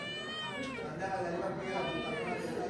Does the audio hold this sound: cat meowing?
yes